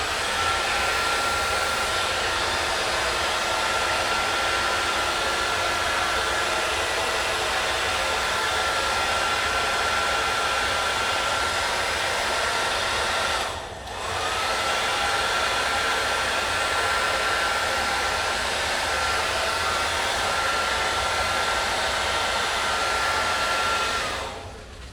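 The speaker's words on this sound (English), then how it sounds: "I'm gonna use the blow dryer again so you won't be able to hear me." A blow dryer pushes wet paint across card stock with a loud, continuous whirring rush. It holds steady except for one brief dip midway, and no voices are heard.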